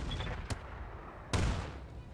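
Mech weapons firing in the RogueTech BattleTech game: two sharp, loud gunfire blasts about a second apart over a low background rumble.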